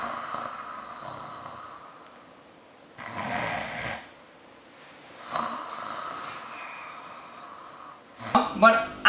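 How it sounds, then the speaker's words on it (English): A person snores in long, rasping pulses that swell and fade with each breath, fairly close and loud, with a sharper snort near the end and no speech. "But I know that he snores though."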